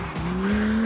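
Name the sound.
Lamborghini car braking heavily into a hairpin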